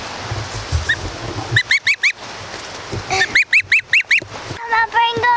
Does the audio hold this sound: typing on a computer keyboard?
no